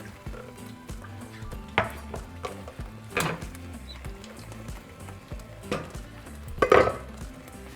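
A spoon stirs chile colorado sauce in a metal pot, scraping and clinking against the sides in irregular bursts, with a few louder knocks near the end, close and moderately quiet.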